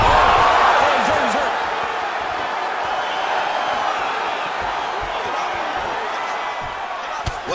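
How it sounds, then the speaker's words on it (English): A crowd in the EA Sports UFC 5 video game cheers and roars steadily through the fight, a dense continuous wash of noise with a commentator talking over it. "An appreciative crowd, obviously getting behind both fighters"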